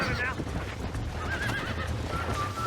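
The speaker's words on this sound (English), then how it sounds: "Let's get on this horse." A horse in the Red Dead Redemption video game neighs and whinnies in a few brief rising calls over dense, loud game ambience and hoof-like clatter.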